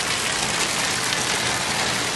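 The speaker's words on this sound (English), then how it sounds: "Tuesday night, heavy rain drenched the Lakeview area." Heavy rain pours down steadily over a residential area at night during a tornado warning, a dense, continuous hiss with no pauses and no voices.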